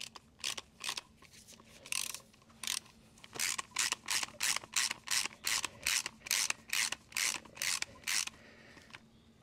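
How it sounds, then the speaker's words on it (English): A wrench tightens a shock mount on a Harley-Davidson Road King Special. Quick rhythmic ratcheting strokes repeat in steady bursts, close and crisp, over a faint background hum. "And now we torque it down."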